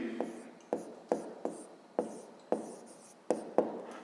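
A pen writes in a notebook during a 5th-grade maths exercise, making scratchy strokes with about nine distinct taps and scrapes over four seconds, close and fairly quiet.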